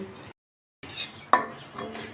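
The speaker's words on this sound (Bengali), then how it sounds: "কড়াইটা বসিয়ে দিয়েছি তেলও দিয়ে দিচ্ছি সাদা তেল" A wok is set on a stove with a dull metallic clunk, and after a short silence a sharp clink of metal rings out, followed by soft kitchen clatter as white oil is added.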